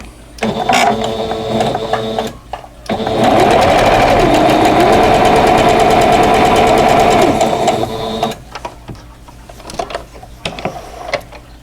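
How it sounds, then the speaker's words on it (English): A sewing machine fitted with a 1/4 inch foot stitches a quilt block in one long continuous run of rapid mechanical whirring and clatter, bracketed by softer handling clicks and shuffling before and after. "I have my 1/4 inch foot on, and I'm just going to go ahead and sew."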